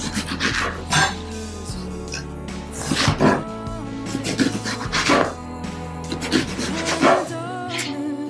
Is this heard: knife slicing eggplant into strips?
yes